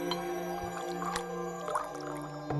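Liquor being poured into glasses among friends at a drinking session, quiet dripping and trickling with soft squishy liquid sounds, close and faint, no talking.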